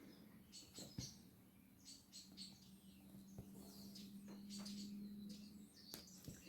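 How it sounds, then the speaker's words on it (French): Faint, scattered bird chirps and tweets in the distance, heard through an open window, over a quiet low hum, with a few soft knocks. "j'ai les oiseaux qui chantent"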